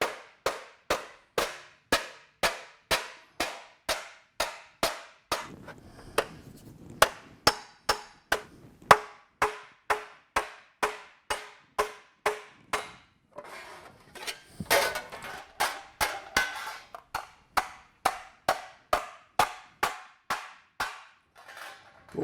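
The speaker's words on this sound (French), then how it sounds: "je me place sur la forme que j'ai préparée et je commence l'emboutissage." Hammer blows beat steadily on sheet metal pressed over a prepared form while shaping a carnyx replica, a crisp series of sharp metallic strikes at an even pace with a brief irregular pause midway and no talking.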